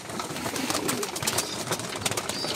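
A flock of pigeons at a fancier's loft crowds together over newly given food, with soft cooing and busy fluttering and scuffling that run steadily through the whole stretch.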